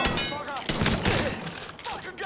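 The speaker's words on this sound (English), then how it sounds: "Gotta shoot everybody, I guess." Gunfire in Mafia 3 without a silencer: rapid loud shots in quick bursts, close and dense, with someone talking over them.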